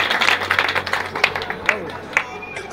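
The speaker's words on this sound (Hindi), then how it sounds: "एक बार ताली बजा दीजिए संजय सराबी जी के लिए" Scattered audience claps at a studio opening ceremony for Sanjay Sharabi, a few spaced sharp claps rising under a voice speaking over them.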